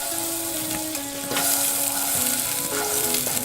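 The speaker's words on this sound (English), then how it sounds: "we will start by melting 2 tablespoons of butter over medium heat" Two tablespoons of butter melt over medium heat in a pan, giving a steady, close sizzle and crackle throughout, with a faint tonal hum under it and no talk.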